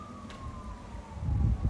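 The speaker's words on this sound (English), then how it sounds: "you can hear the sirens right now." A distant emergency vehicle siren wails during the Los Angeles Palisades fire, a thin descending tone over low gusting wind rumble, heard from miles away.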